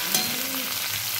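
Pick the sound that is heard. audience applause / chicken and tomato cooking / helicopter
chicken and tomato cooking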